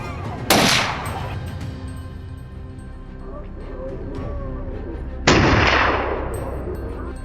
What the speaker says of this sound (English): Gunfire echoed from every side